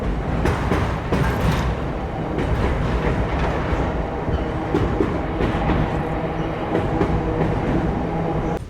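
The Bitragunta to Chennai Central MEMU express train runs near Nellore by the Penna River, with a steady loud rumble and rhythmic wheel clatter heard from inside the coach.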